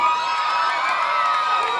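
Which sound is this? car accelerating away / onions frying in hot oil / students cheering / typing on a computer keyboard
students cheering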